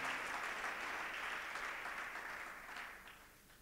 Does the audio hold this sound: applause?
yes